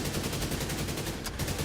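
Light machine gun firing in The Division 2: a rapid, unbroken stream of automatic shots at a steady fast rhythm, loud and close throughout with no talking.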